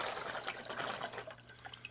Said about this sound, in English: If you look over here, water's going to come out.